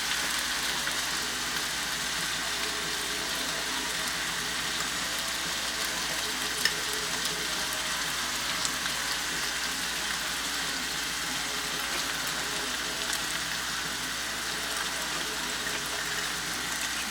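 Steak frying in a pan alongside a breakfast of bacon and eggs, a continuous even sizzle like rain on a surface, close and steady with no talk.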